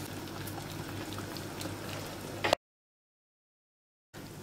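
Soup bubbles at a steady, soft simmer, then cuts to silence before the bubbling briefly returns.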